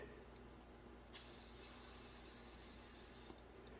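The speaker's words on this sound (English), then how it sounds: "I'll spray some penetrating fluid in there." Penetrating fluid sprayed from an aerosol can into the seized lock of a spare tire hoist on a 2007 GMC Yukon: one steady, close hiss lasting about two seconds, set against quiet background.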